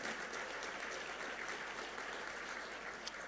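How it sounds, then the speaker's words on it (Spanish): A church congregation applauds in praise, a dense even wash of many hands clapping throughout, somewhat distant and steady without pause. "Fuerte ese aplauso de alabanza al Señor."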